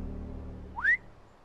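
A short rising whistle from a character in Telltale's Game of Thrones video game, a single bright upward-sweeping note lasting under a second over a low steady background hum.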